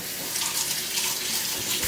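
A kitchen tap runs steadily while hands are washed under it during bread-maker baking, a close, continuous rushing splash of water with no talking.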